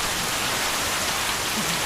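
Heavy rain falls in a constant, close hiss, steady and unbroken for the whole moment with no voices.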